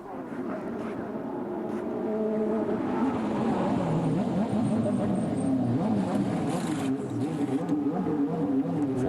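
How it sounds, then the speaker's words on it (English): A Champ Car race car at the 2004 Denver round pulls onto pit road on lap 25, its engine droning steadily and building slightly in loudness, with crowd and track noise around it. "Here comes Carpentier, decides to come to pit road now on lap 25."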